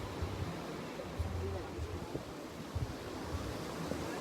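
Sea waves roll onto a shore by a seaside dinner spot, a continuous rushing wash mixed with gusty wind buffeting the microphone, with brief louder thumps now and then.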